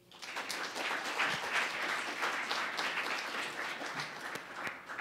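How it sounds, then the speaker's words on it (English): An audience at a technology talk on 6G claps after a speaker introduction, a dense, sustained round of applause from a sizable crowd filling the room for several seconds. "So again, round of applause,"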